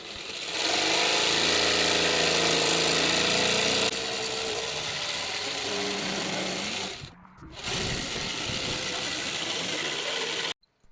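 Power saw cutting a wooden plank for a camper van kitchen, a loud steady motor whine that runs almost without a break, briefly dipping near the end before resuming and then cutting off abruptly.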